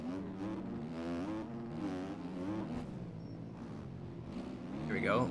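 A KTM 250 motocross bike engine in the video game MX Bikes revs and whirs steadily throughout, rising in pitch near the end, under continuous talk.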